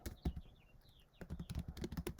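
Fingers tapping on a computer keyboard, a quiet, uneven patter of soft clicks with a brief lull in the middle, heard close by alone.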